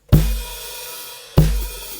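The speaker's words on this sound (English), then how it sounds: "the bass drum and the hi-hat are all together" Drum kit drag figure with snare grace notes landing together with the main snare hit, bass drum and hi-hat: two tight, punchy combined hits over a second apart, each decaying into ringing cymbal wash, close and without speech.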